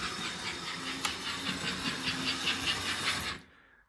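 American Flyer model train starting up and running, a rhythmic chuffing hiss from its smoke unit pulsing steadily over a low motor hum, close by, with a sharp click near the start before the sound cuts off abruptly.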